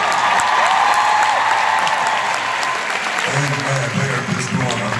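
A large congregation claps loudly and continuously at a church gathering, a thick roar of hands with crowd voices and cheers mixed in throughout.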